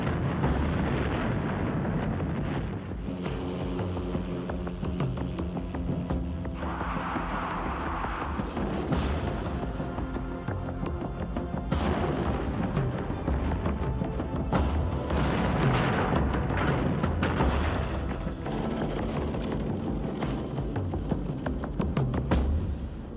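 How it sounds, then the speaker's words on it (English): An AH-56 Cheyenne attack helicopter fires a rocket barrage at a mock convoy, and rumbling booms and blasts roll continuously over a constant low roar. "the gunner was able to launch a third strike against a mock convoy with a massive barrage of rockets"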